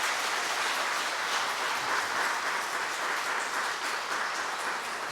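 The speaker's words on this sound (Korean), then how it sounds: "우리 유년부 친구들 다시 한번 뜨겁게 박수합시다" A congregation at an early-morning Korean church prayer service gives steady, sustained applause for a children's department group, a dense even wash of clapping with no talk over it.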